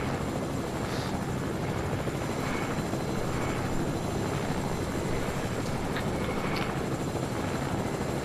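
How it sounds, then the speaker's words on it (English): A helicopter flying around in the Fortnite video game gives a steady, loud, close rotor drone with a constant engine whine, unbroken and without voices for the whole stretch. "I'm the only person with a helicopter flying all over the place"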